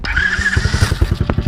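A TaoTao DB20 110cc four-stroke automatic dirt bike cranks and fires, settling into a quick, fairly quiet puttering idle up close in a brief burst.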